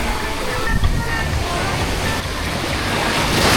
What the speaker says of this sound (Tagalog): Malakas na yung alon